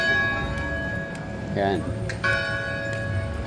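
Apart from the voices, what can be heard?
church bell ringing near Davao City Hall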